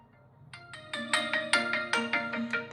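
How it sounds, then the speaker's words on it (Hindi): Vivo X200t smartphone playing an incoming call ringtone, a bright melodic sequence of plucked, chiming tones that builds into a repeating rhythmic pattern, clear and alone. "अगर आप इधर इनकमिंग कॉल में जाओगे तो देख सकते हैं ये सब साउंड है।"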